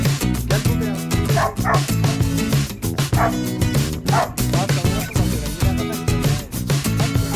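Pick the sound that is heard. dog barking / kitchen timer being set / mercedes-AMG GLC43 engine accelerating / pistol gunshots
dog barking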